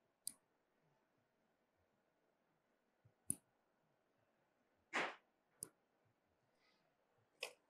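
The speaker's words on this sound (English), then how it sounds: "So I'm just nicely cutting off the free edge." Sharp, separate clicks of clippers cutting the free edge off a soft gel nail extension, about five snips spread out with quiet gaps between them, close and clear.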